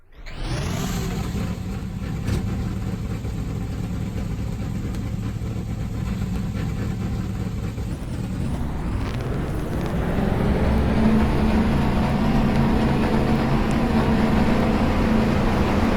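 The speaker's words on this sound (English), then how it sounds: "Drivers, start your engines!" Stock car engines at Bristol in NASCAR Racing 2003 fire up and settle into a steady, rumbling idle, the low drone thickening and growing louder after the first few seconds as more cars join.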